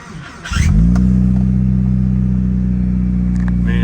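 A 2003 Mitsubishi Lancer Evolution 8 with a swapped engine and a suspect starter cranks briefly, catches and settles into a loud, steady idle close by.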